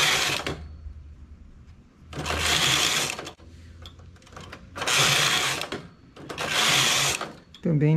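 A domestic knitting machine working lace, its carriage swept across the needle bed in three or four long loud rasping passes separated by pauses, close up, with a brief voice at the very end.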